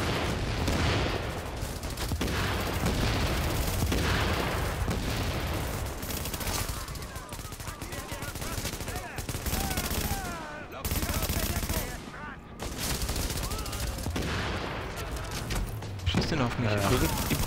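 Gunfire from the video game The Division, dense bursts of automatic weapons fire and single shots rattling almost continuously, loud and up close, with voices talking over the shooting.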